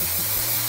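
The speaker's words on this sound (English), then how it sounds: "Let's spray the rest of your hair to make sure it's evenly glitterified" Glitter hair spray hisses out of a can in one brief, steady burst while being sprayed onto hair at a salon-style makeover.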